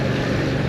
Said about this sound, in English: The thing I like about this is the feeling of the engine. It's kind of slappy, it's kind of tinny, but again, not in a bad way.